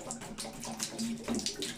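Water that has soaked in an oak barrel for a day, slightly tinted, is poured out of it with a steady, continuous splashing and gurgling at moderate loudness and close range, with no talking.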